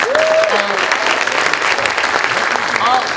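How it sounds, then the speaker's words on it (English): A room full of people applauds, steady dense clapping throughout, with a few voices cheering over it. "Give yourself a round of applause."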